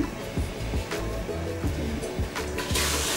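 Cold water running from a stainless steel hand shower on a black SUS304 shower panel, a steady close hiss and splash with a few low knocks.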